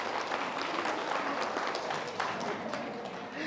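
Sustained applause from an audience at a Buddhist gathering in Wardha, India: dense, even clapping fills the room steadily from start to finish, with a faint voice beneath it.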